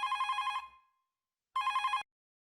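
A telephone bell rings in two trilling bursts separated by a short silence, clear and close.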